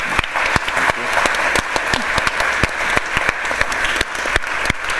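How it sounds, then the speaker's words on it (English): Audience applause for the guests at a talk in Barcelona, a steady patter of clapping from a modest crowd with sharp individual claps standing out, continuing evenly throughout. "Please help me thank and applause once again our guests."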